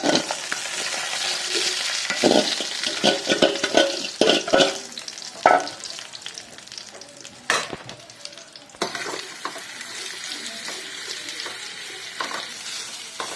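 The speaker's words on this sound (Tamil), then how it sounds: "இது ஒன்றா கலந்ததுக்கப்புறமா நம்ம தாளித்து வச்சு வச்சுருக்கிற கடாயில் இதை கொட்டிக்கலாம்" Raw banana slices dropped into a kadai of tempered spices, sizzling and frying while a spoon stirs and scrapes, giving loud bursts of clatter over a steady hiss that then settles into quieter frying.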